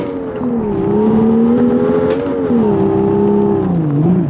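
A car engine in an online car racing video game hums loud and close, its sustained whine gliding up and down in pitch as the virtual car accelerates and eases off, with a short sharp click partway through.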